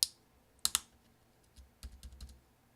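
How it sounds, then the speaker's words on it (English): A key on a 13-inch early-2009 MacBook Pro keyboard is pressed down into place, giving a few crisp, close plastic clicks in quick succession, then a run of softer, quieter clicks. "press down with your finger. You might have to move it around a little bit until you hear several clicks"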